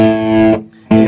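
An electric guitar plays through an amplifier with distortion, a loud sustained overdriven chord that cuts off briefly, then a fresh chord strikes hard.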